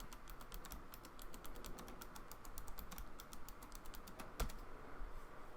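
Keys clatter on a computer keyboard as a password is entered, a quick, steady stream of light clicks that is fairly faint and close, with one slightly heavier keystroke near the end.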